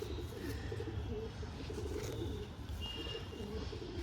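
Giribaz pigeon pair cooing softly in a low, steady murmur, with faint bird chirps scattered through and no voices.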